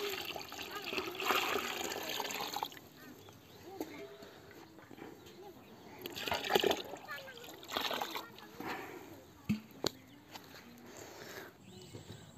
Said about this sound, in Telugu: మరో కొన్ని నీళ్ళు పోసుకుందాం.